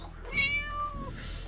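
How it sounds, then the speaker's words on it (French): A house cat gives a single drawn-out meow indoors, close and clear over a quiet background, falling off at the end with a soft breathy tail. "Ah, le chat."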